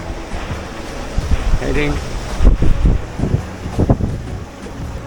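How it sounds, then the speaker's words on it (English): Offshore wind buffets the microphone on a sailboat between Curaçao and Panama, making a rough, gusty rumble over a wash of water. Someone talks throughout. "Now the wind is slowing down to 15 roughly in average."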